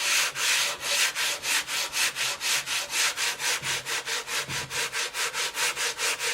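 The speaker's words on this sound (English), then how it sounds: "When you're sanding, I like to go diagonal instead of up and down" Steady back-and-forth scraping of hand sanding a drywall joint diagonally, about four strokes per second in an even rhythm, close and fairly loud with no talking.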